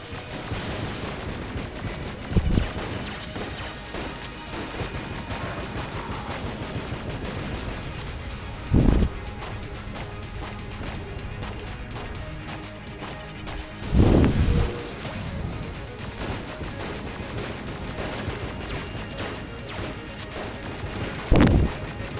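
Strafe gun firing in the Enter the Gungeon video game, a steady stream of rapid shots with a few louder bursts and crashes at intervals, dense and continuous throughout.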